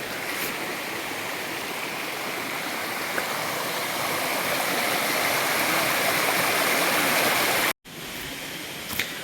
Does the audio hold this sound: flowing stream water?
yes